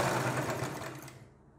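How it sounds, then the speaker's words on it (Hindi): A sewing machine stitching cloth for piping on a front neck design, running in a steady close whir that fades out near the end. "ये देखिए ऐसे बिठाते हुए आपको कपड़े को सिलाई लगानी है।"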